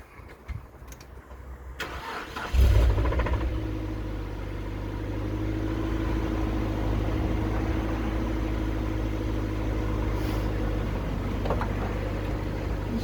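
A Mazda MX5 engine cranks briefly, catches with a loud burst, then settles into a steady, low, even idle close by.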